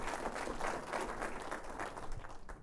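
A room of conference attendees applauds the organisers after a search relevance keynote, dense and even clapping from many people at moderate distance that holds steady, then thins at the end.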